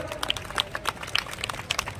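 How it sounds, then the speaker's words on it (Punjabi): Crowd of spectators clapping at a Ram Leela night ribbon-cutting ceremony in Jalandhar, scattered hand claps spread through the clip, moderately loud and fairly steady. "ਜ਼ੋਰਦਾਰ ਤਾੜੀਆਂ ਲਾ ਦਿਓ"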